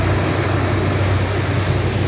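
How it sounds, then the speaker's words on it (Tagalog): Sea waves wash onto a shore at night, a steady broad roar of surf close by with no distinct break, filling the whole moment without voices. "Ayan na guys ang alon nyo, diba?"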